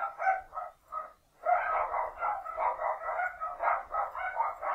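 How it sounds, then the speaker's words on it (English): Dogs barking outdoors in repeated quick bursts, a short pause and then near-continuous yapping, fairly loud and steady throughout. "If you can hear the dogs"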